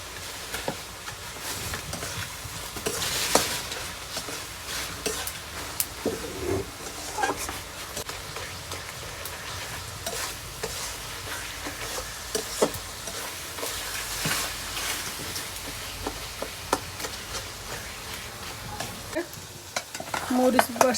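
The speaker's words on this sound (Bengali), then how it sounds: "এখানে হলুদের গুঁড়ো, ধনিয়ার গুঁড়ো আর লবণ দিয়ে ভালোভাবে নেড়ে নিতে হবে।" Continuous close stirring and scraping as salted hilsa fish is mixed with turmeric, coriander powder and salt, with soft wet churning and occasional clinks throughout.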